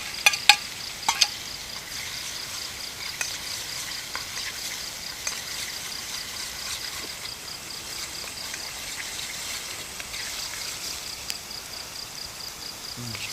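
Spices sizzling in a hot pan during stir-frying at a campsite, a steady hiss throughout with scattered clicks and scrapes of stirring, a few sharper knocks near the start.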